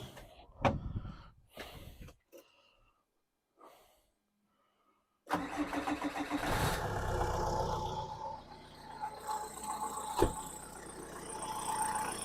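A Renault Kangoo 4x4 van engine cranks from cold after a fuel quantity adjuster fix: a few short bursts and a pause, then it catches and settles into a steady, fairly loud running rumble with a brief rev spike.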